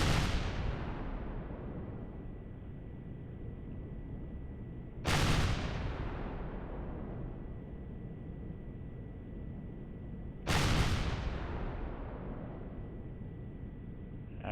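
Rockets in the space game Empyrion fire and explode, with three sharp blasts about five seconds apart, each one trailing off into a long rumbling decay over a steady low hum.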